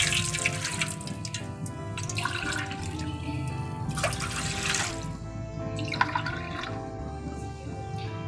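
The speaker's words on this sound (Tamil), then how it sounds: "தண்ணி ஊற்றிக்கலாம்." Water pours steadily into a kadai for rava kesari with a continuous splashing, gurgling rush, close by, with no talking.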